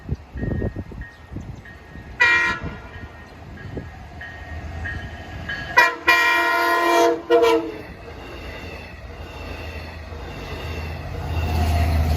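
A Long Island Rail Road C3 commuter locomotive's air horn blares in a few harmonic blasts on the Montauk Branch, one short burst then a longer sustained one, over rumbling wheels and distant rail noise.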